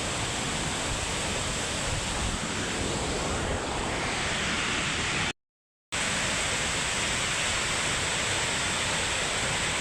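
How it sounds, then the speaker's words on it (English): Victoria Falls at low water, a steady broadband roar of falling water mixed with wind buffeting the microphone, constant and loud apart from one brief dropout midway. "The falls is really low. The water levels are really low."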